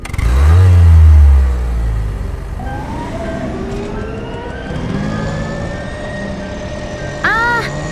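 A pink car accelerates hard toward its top speed, a loud low engine roar at first that eases into a rising, whining drone, with people talking inside and a brief rattling burst near the end.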